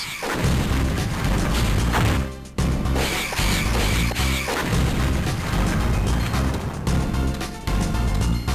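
Bomb blasts in the Game Boy Advance game Sigma Star Saga: a dense run of loud, booming explosions with sharp breaks between bursts, all in harsh, crunchy game audio.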